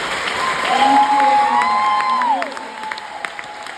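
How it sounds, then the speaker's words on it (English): A crowd at a political event in Plattsburgh applauds and cheers, loud at first and then tapering off, with a sliding whistle-like tone rising and falling over the clapping. "Let's give Valerie a big round of applause"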